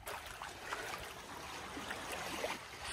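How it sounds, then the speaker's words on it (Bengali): The strong current of the Padma River rushes past, a faint, steady broadband wash of flowing water with light gurgling and no clear pauses. "সর্বনাশ, কি স্রোত!"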